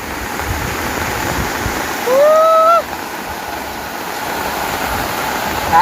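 Steady rushing floodwater flows loudly and continuously past a house after heavy rain, with a brief high whistle-like sound partway through.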